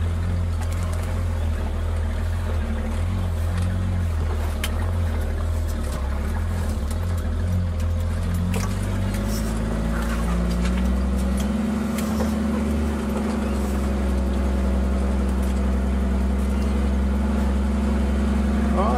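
Willys Jeep engine running steadily on a forest trail at around 1800 RPM, a loud continuous low rumble throughout with shifting load and faint knocks over about nineteen seconds.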